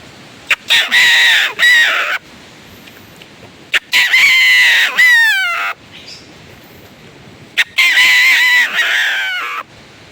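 Three loud bursts of a pakakak horn mimicking a rooster's crow, each a wavering, rising-and-falling call separated by short pauses.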